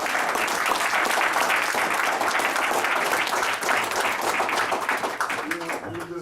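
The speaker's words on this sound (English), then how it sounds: "hand of applause right now." Loud, sustained applause from a large seminar audience fills the room for several seconds, dense clapping with some crowd noise mixed in, tapering slightly near the end.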